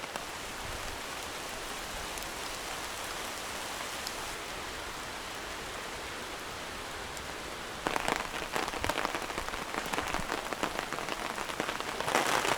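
Steady rain patters through a forest near a log cabin build site, a dense, even hiss that grows noticeably heavier and louder partway through, with no voices.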